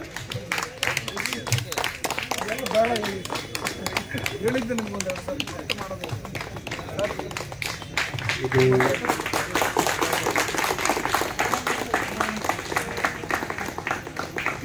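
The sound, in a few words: audience applause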